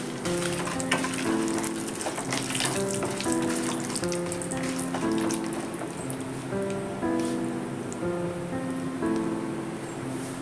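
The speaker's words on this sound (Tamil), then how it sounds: "கடலைப்பருப்பு நல்லா வறுத்துக்கலாம் இப்போ நான் ஒரு அஞ்சு வத்தல் சேர்த்துக்கிறேன்" Chana dal and dried red chillies fry in hot oil in a pan for brinjal chutney, a dense, even crackle and sizzle running throughout, close and steady, with background music and no speech.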